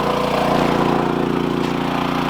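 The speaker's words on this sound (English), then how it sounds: "Got some engine noise" An engine runs steadily near a filtered suction pump at an abandoned racetrack, a close, even mechanical hum with a regular pulsing beat and no talk.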